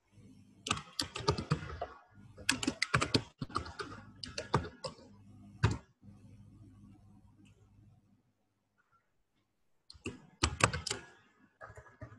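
Typing an address on a computer keyboard, close and quiet, in several bursts of rapid clicking keystrokes separated by short pauses, with a longer silent gap before a final burst of keys.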